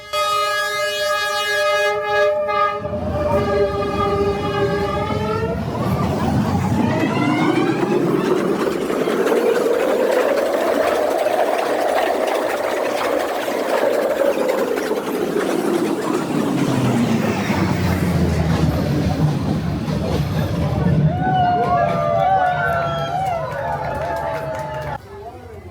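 A train roars past up close on a Hanoi street, its loud rushing noise swelling to a peak and then fading, with a horn blaring at the start and squealing near the end.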